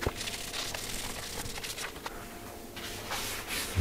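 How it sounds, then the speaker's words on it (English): Steady soft rubbing of a cloth with methylated spirits over turned firewood, cleaning the pores, a continuous close scrubbing hiss with small swells, no talk. "I'm just going to clean out all the pores with some methylated spirits"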